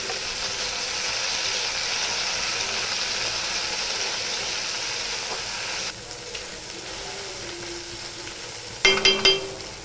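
Okra and potatoes fry in a pan, a steady loud sizzle for several seconds that softens as they settle, then a few brief stirring clatters near the end.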